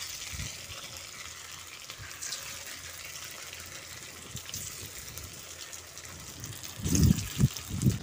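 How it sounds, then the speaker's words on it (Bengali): Plantain dumplings (koftas) lowered one by one into hot oil in a wok, giving a soft steady sizzle that swells near the end with a few louder bubbling bursts, no talking. "গরম তেলের মধ্যে ধোকাগুলো একে একে দিয়ে দিচ্ছি।"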